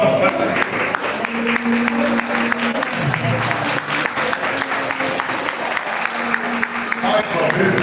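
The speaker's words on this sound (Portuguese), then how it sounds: "Recebe ele por palmas" Church congregation clapping during a regional worship service in Ferraz de Vasconcelos, Brazil, a full, loud, continuous round of applause with some low tonal sound beneath.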